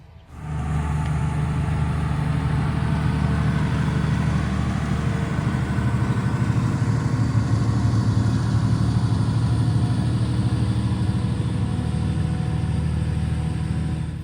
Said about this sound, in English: I think we have a tractor coming